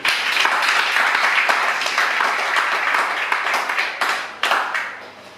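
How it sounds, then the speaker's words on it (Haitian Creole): A crowd applauds at a graduation ceremony, with dense, steady clapping that carries on for several seconds and then thins out into a few scattered final bursts near the end. "Je vous demande d'applaudir, mesdames et messieurs."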